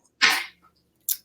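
A dog sneezing indoors, one sharp close burst followed a moment later by a shorter, fainter second snort.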